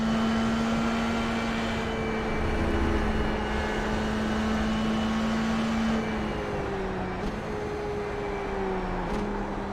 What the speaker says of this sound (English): I love the sound of these cars though.